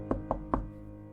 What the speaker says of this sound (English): I stood up after hearing a knock at the front door.